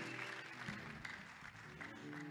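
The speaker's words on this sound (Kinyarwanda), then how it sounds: "amashyi menshi cyane" A church congregation applauds after a sermon, producing a dense, continuous wash of clapping that fills the room, with no talking over it.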